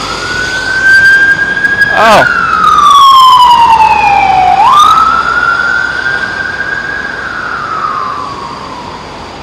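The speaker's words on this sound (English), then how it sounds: "And there's a siren passing." An emergency vehicle siren passes along a street in Waikiki, Oahu, its wailing tone loud and close as it sweeps down in pitch and rises again, with construction noise and a brief voice underneath.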